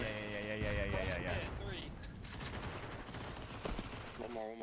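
AK rifle shots fire in a Counter-Strike match at a BLAST Premier tournament, a quick burst of sharp cracks beneath game sounds and players talking over it.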